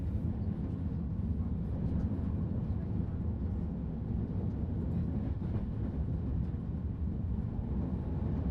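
An N scale model train runs around a home layout, giving a steady low rumble and whirring roll that stays fairly quiet and even throughout, with no clear voices.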